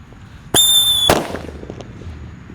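A blue Happy Flower firework goes off outdoors with a sharp bang and a brief high whistling shriek, followed by a second crack and fading crackle, close and loud with no talking.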